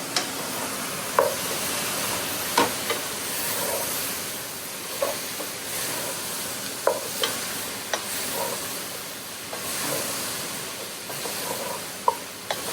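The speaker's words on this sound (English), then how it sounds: "And we're going to mix that up." Potato and leek soup ingredients, including large chunks of potato, are stirred in a pot, with a steady soft sizzle underneath and repeated scraping clinks of the spoon at irregular intervals. No one speaks.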